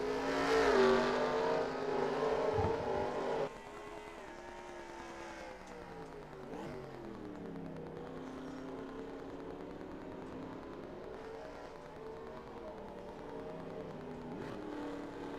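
Race cars in the NASCAR Racing 2003 game lapping the road course at Mid-Ohio, with a loud engine drone at first, then steady revving and whining engines rising and falling as the cars shift through corners, no voices.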